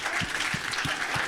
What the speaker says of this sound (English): just a brief round of applause for our host tonight